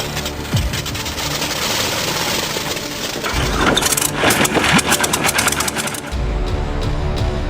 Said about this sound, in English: an air-cooled Onan diesel, starting at 8 degrees Fahrenheit with only 3 glow plugs